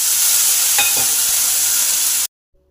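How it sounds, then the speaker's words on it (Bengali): A kulcha hits a hot pan with a tablespoon of water, giving a loud, steady broadband sizzle with steam hiss, a few brief scraping stirs partway through, then cutting off abruptly. "1 টেবিল চামচ জল দিয়ে একটা কুলচা প্যানে চাপিয়ে দিলাম।"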